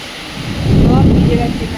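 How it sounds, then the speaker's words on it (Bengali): Heavy downpour with a deep rumble of thunder swelling and fading over a couple of seconds, steady and loud with wind-like noise. "খুব জোর বৃষ্টি, সাংঘাতিক বৃষ্টি পড়ছে"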